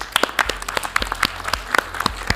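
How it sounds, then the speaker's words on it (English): An audience applauds, many hands clapping at once in a dense, steady patter that fills the room, moderately loud, with no voices standing out. "Let's give another round of applause to our distinguished speakers."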